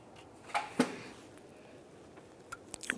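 A harness connector snapping into place on a 2015-2020 Cadillac Escalade, heard as a couple of faint, sharp plastic clicks at close range, followed by smaller taps.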